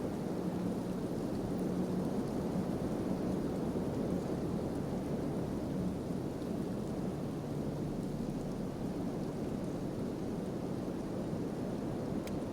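Acid rain falling in the video game Kenshi, a dense steady hiss of rainfall with low rumbling wind or distant thunder, continuous and fairly loud throughout with no voices.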